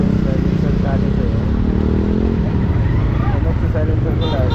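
A motorcycle with a cut silencer roars with a loud, raw, continuous exhaust at close range, drowning out people talking over it.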